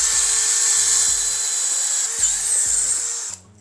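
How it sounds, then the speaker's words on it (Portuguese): A FortG brushless drill driver boring a hole into hard wood, giving a steady high-pitched whine close by, with faint knocks underneath before it winds down at the end. "Vou fazer um furo primeiro."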